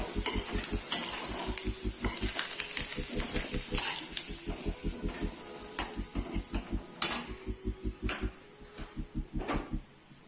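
Potato pieces frying in oil in a home kitchen pan, a steady crackling sizzle overlaid by a rapid rhythmic run of utensil scrapes and clacks against the pan, close and fairly loud.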